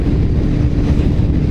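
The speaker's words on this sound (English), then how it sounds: "I have earplugs in because of all the wind noise" Steady, loud low roar of wind buffeting while riding a motorcycle along the highway with the visor open, constant and unbroken with no talk.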